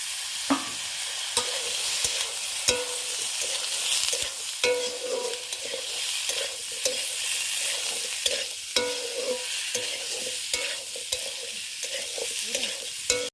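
Pork meat cooks with potatoes in a pan, sizzling steadily and loudly up close while a spatula scrapes and clacks against the metal in a repeated stirring rhythm, with no talking.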